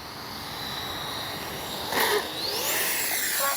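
Arrows 64mm Marlin RC jet doing a touch-and-go, a thin high electric ducted-fan whine with a brief louder rush as it passes, rising in pitch as it climbs away, heard from a distance.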